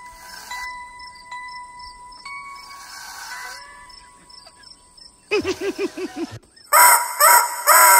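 Rooster crowing on a farm within a children's song, heard as a short bright call near the end after quieter musical passages, with a louder burst of crowing or clucking closing it.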